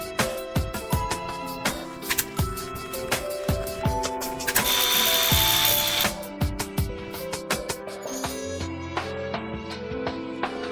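A drill bores an observation hole in a wooden birdhouse. The whine comes as a single loud burst lasting about a second and a half, set among lighter mechanical clicks and a steady tonal background.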